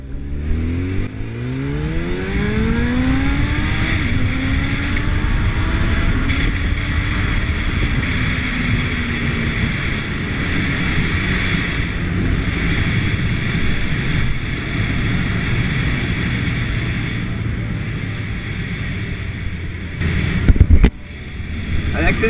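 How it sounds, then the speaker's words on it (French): A Honda CB1000R roadster motorcycle accelerates while ridden, the engine note climbing in pitch over loud, steady wind rush, with a brief knock near the end. "On va faire une petite accélération."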